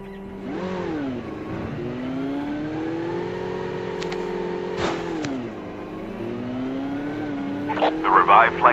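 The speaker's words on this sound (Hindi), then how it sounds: "और बाइक लेके जोन में चढ़ने लगता हूँ।" Motorbike riding in Call of Duty Mobile: a game engine tone rises and falls steadily with gear-like pitch sweeps, heard close, with faint crackling shots near the end.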